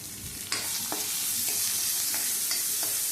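Amaranth leaves frying in a pan with salt and a pinch of turmeric, a steady sizzle broken by several sharp scrapes of a spoon stirring at irregular intervals.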